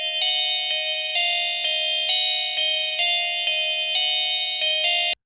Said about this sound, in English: I ended up landing on an FL Studio stock sound. It's called Bionic Bells